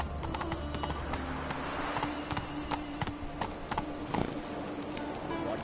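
The horse Roach gallops in a video game, with quick clip-clop hoofbeats at a steady rhythm over a soft low background drone.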